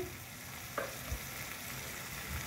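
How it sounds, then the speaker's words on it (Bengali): Water hits a pan of mushroom paneer dopyaji, and a soft, steady frying sizzle continues throughout with a faint clink or two near the start. "এবার আমি জল দিচ্ছি।"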